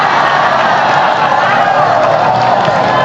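An audience at a Maulid Nabi religious gathering claps and cheers, with dense continuous applause, whoops and crowd noise filling the room.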